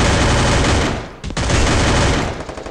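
Gunfire in Garena Free Fire rattles in loud, sustained automatic bursts, breaking off for a brief gap, then resuming just as heavily before easing at the end.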